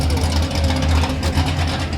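A BMW fitted with a supercharged E55 motor runs steadily at a car show, a deep low rumble holding throughout while people talk nearby.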